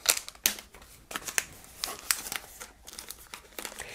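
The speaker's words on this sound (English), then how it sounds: "It's coming sealed in this plastic. I'm going to unseal it with you." Crinkling and tearing of the sealed plastic wrap being pulled off a purple Ulike Sapphire Air 3 IPL laser hair removal device, several sharp rustling bursts close up with quieter crackles between them.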